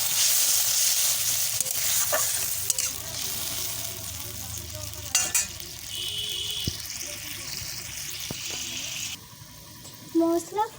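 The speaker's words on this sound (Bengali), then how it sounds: "এবারে জলগুলো দেবো" Spice paste frying in oil for a fish curry hisses and sputters as water pours in, a loud sizzle that settles into a gentler bubbling, with clinks of utensils and a faint voice in the background.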